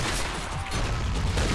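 Rifle gunfire from a Stalingrad battle in the video game Men of War Assault Squad 2, a dense, continuous fusillade of overlapping shots crackling steadily throughout without speech.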